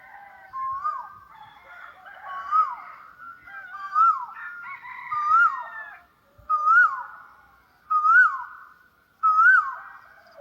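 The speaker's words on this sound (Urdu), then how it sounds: "یہ کوئل کی آواز ہے" Asian koel calling, a clear repeated two-note rising whistle sounding about seven times in a steady series over ten seconds, growing louder and more insistent toward the end, heard alone in a quiet setting.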